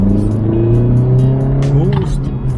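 A 2022 Honda Civic Si engine pulls up through the revs toward 4,000 RPM as a rising drone heard from inside the car, then the pitch drops with a gear shift, loud and close.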